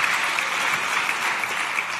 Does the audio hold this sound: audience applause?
yes